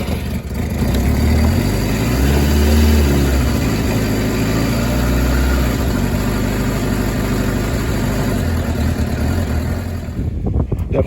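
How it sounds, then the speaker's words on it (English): A 2006 Suzuki GSX600F K6 second-generation motorcycle engine runs close by with a steady, throbbing idle, the revs swelling briefly early on before settling back to an even, continuous rumble. "let's fire her up to see how she's running and take her out for a spin"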